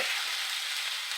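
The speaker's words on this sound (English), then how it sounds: "Sear it up, Alvin." A T-bone steak sears in a hot pan with a dense, steady hiss of sizzling, close and loud, with no talk.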